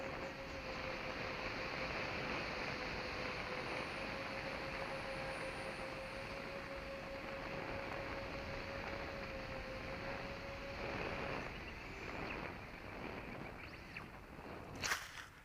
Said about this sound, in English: the little Hewing Ranger T1, it's a fun little plane.